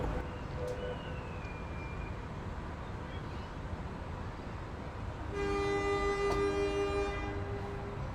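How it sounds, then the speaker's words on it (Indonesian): The Probowangi passenger train pulls away from Rejoso station with a steady low rumble, then a loud sustained horn blast sounds for a couple of seconds near the end. "Dan setelah itu kereta api Propowangi berangkat."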